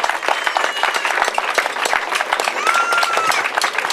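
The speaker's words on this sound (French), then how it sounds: "Je voudrais que nous puissions acclamer Sosimat" An audience at a World Habitat Day 2012 event applauds, cheering the company Sosimat: dense, steady clapping from a crowd that holds at an even loudness throughout, with faint voices mixed in.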